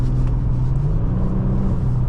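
A 2023 Genesis G70 3.3T AWD in sport mode gives a steady, low engine rumble from inside the cabin, smooth and continuous with no speech.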